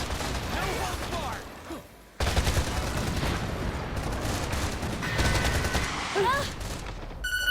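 Rapid gunfire from the video game Freedom Wars, dense bursts of shots running almost continuously with a short break near two seconds, layered with game effects and chimes.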